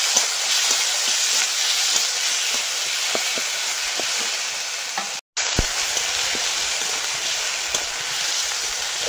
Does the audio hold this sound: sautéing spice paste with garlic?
yes